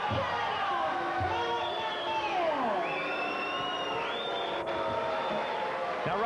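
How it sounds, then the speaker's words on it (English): Crowd at an amateur boxing match in Halifax, steady dense roar of many voices with rising jeers and calls, continuous and fairly distant, filling the whole stretch. "a lot of people in the crowd are booing"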